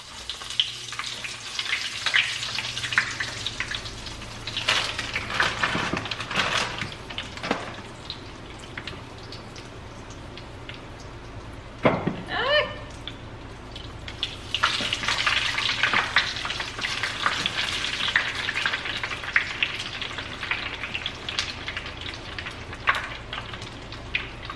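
Frozen coxinhas bubble and sizzle steadily in hot oil, a dense continuous crackle with louder bursts as pieces are added or stirred, no talking.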